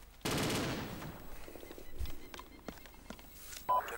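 Gunfire in a military combat video game: one loud, abrupt burst of automatic fire at the start, then scattered fainter shots and clicks at a distance, with a final sharp crack near the end, all fairly quiet overall.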